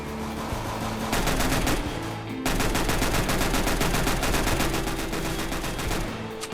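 Desert Eagle pistol fire from Counter-Strike, loud and sustained rapid shots in two long bursts with a brief pause, dense and continuous with no talk.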